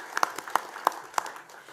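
A handful of separate, faint hand claps ring out at an awards night for sports stars, spaced about a third of a second apart over a quiet room.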